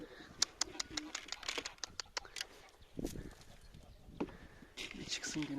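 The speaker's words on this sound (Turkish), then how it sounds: "Şimdi güvercinlerimizi yemleyelim." Pigeons at a rooftop feeding spot make soft coos and wing flutters over sharp scattered taps and pecks, with a person calling to them in between.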